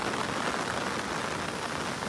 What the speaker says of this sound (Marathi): तर पाऊस पडायला लागलेला आहे